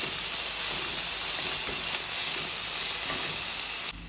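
Vegetables frying in a pan for pulav give a steady, loud broadband sizzle and hiss that stays even throughout, then dips suddenly near the end.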